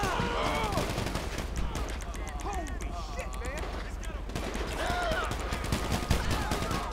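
Police gunfire in GTA 5 during a chaotic city fight: continuous rapid shots crackle under a busy mix of game sounds and chatter, with several distinct bursts standing out.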